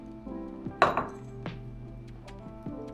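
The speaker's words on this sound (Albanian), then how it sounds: "I hedhim brenda dhe karrotat." Small pieces of chopped carrot are tipped into a pot of Albanian lentil soup, landing in a brief clatter with a few light clinks against the metal, quiet and close, and nobody speaks.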